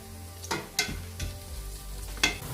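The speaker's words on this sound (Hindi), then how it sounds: "प्याज थोड़े से सॉफ्ट कर रही हूँ, उसके लिए मैंने तकरीबन 4 खाने के चम्मच ऑयल लिया है।" Onions softening in about four tablespoons of oil in a pan, with a steady low sizzle and a few louder scrapes and stirs of a spoon spaced through the short stretch, no voices.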